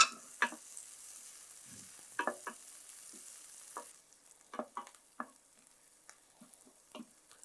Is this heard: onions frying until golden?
yes